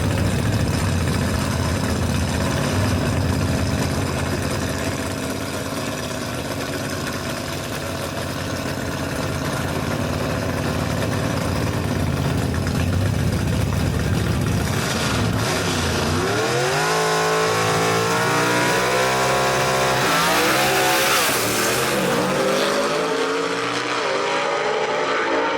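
Chevy II gasser drag race car with a Walden-built engine at a Knoxville drag strip, a loud, steady, rumbling engine roar that rises into sweeping revs near the end, heard close with no talk.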